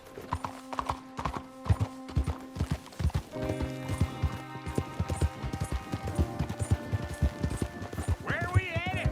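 A horse gallops in Red Dead Redemption 2, hooves beating in a fast steady rhythm up close, with a brief whinny near the end, under game music and spoken dialogue.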